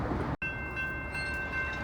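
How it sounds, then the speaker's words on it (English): A freight train rolls past a grade crossing with a steady loud rumble and roar, a high bell-like ringing tone sustained above, after a brief dropout near the start. "Another train coming."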